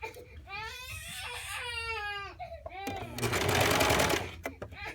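A serger sewing a garment sleeve runs in a loud, fast mechanical whir for about a second near the end, after a stretch of crying and voices.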